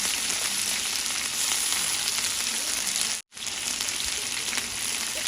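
Curry leaves and fenugreek seeds sizzle loud and dense in hot oil, a continuous spitting crackle with one brief cut partway through.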